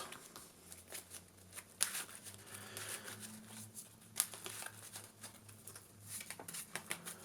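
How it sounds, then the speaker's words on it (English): A deck of Yu-Gi-Oh cards being shuffled by hand, with quiet riffling and sliding flutters and a couple of sharper snaps, close and faint with no talking. "Shuffle that up"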